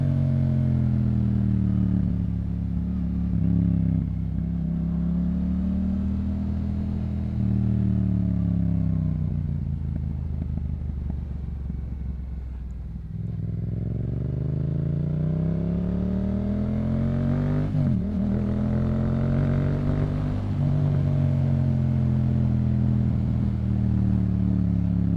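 A Yamaha MT-07 fitted with a Yoshimura exhaust rides and accelerates out of turns on a bumpy road, its engine note rising and falling in repeated surges, loud and close with wind noise and no talking.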